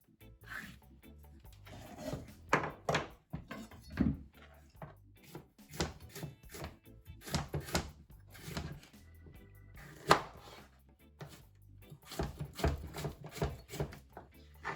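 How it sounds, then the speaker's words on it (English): Plantains being cut with a knife on a board for a Sunday breakfast porridge, giving a run of irregular knocks and taps with some handling noise, moderately near. "So I'm cutting my plantains."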